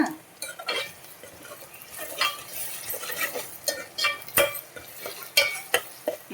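Ginger paste being stirred into a small-prawn curry in a pan, with intermittent spoon scrapes and clinks against metal over a soft simmering bubble, uneven in rhythm and close by.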